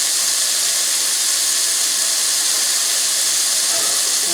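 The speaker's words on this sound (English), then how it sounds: "We're going to saute all this for 6 to 7 minutes." Shrimp and sausage pasta ingredients sauté in a pot for a New Orleans style dish, giving a steady, bright sizzling hiss that holds evenly from start to finish, close and moderately loud.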